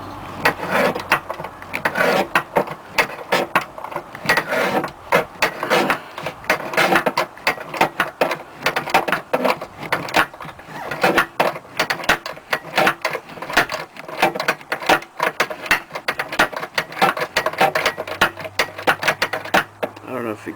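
A wrench loosens the right-side upper ball joint nut on a Chrysler 300, Dodge Charger or Magnum upper control arm. Dense, rapid clicking and rattling runs steadily throughout, close by, over a low background hum.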